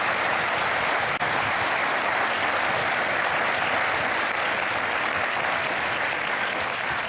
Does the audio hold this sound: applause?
yes